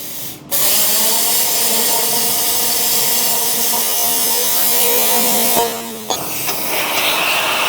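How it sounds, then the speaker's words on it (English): A plasma cutter slices through round steel tube with a loud, continuous hissing roar that holds for several seconds, stops briefly, then restarts. "My very first time cutting round tube with a plasma cutter."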